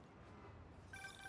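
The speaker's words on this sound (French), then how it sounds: "On va attendre le coup de téléphone." A telephone ringing in the video game Marvel's Spider-Man, a faint electronic ring tone starting near the end over low game ambience.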